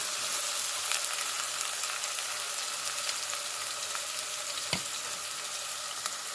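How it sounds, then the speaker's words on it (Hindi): Finely chopped onions, three medium ones ground in a hand chopper, sautéing lightly in a pan for a smoky chicken dahi, giving a steady, even sizzle with a couple of faint clicks and no talking. "हम प्याज को जो है वो बहुत ज़्यादा ब्राउन भी नहीं करेंगे, बिल्कुल हल्का सा सौते करेंगे।"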